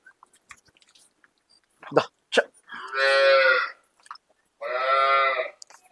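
A young Murrah buffalo calf moos twice at close range, two long drawn-out calls about a second and a half each, with scattered knocks and short human utterances just before them.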